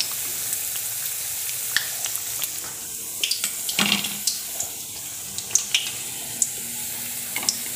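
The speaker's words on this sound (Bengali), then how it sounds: "ঠিক এরকম লাল করে ভাজতে হবে।" Balu Shahi, a Bengali sweet, deep-frying in oil until reddish: a steady hiss of bubbling oil runs throughout, with occasional soft clicks and taps of a utensil close by.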